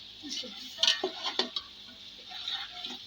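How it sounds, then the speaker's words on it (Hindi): Four spoonfuls of cumin seeds roasting in a pot for chicken pulao, with soft sizzling, a few light ticks and scraping stirs against the pot. "और ये ज़ीरा 4 चम्मच। इससे बहुत अच्छा टेस्ट आएगा हमारे पुलाव में। अब हम इसको भून लेंगे।"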